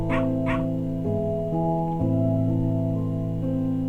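A dog barks twice in quick succession near the start, then yips and whimpers faintly over loud sustained musical tones that fill the whole clip.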